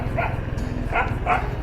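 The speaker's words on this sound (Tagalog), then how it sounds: "Putang ina, may aso." A dog barks three times in quick succession on a village street in the Philippines, loud and fairly close, over a low background rumble.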